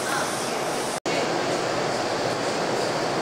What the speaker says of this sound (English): Yeah, it's a big long train, all right. Noisy.